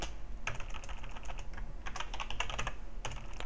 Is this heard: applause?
no